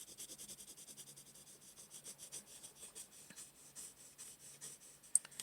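Oil pastel rubs across paper in steady back-and-forth strokes while a red-eyed tree frog is drawn, a soft rhythmic scratching that stays quiet and close, with no talking.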